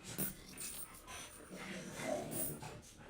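Dogs fool around nearby with soft snorts, wheezy huffs and breathy snuffles, low and scattered over a few seconds with no talking.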